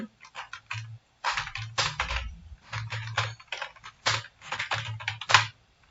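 Computer keyboard typing as text is entered into a layout document: bursts of quick, close key clicks in uneven clusters with short pauses between, clear and alone.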